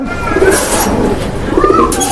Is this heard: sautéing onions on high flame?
no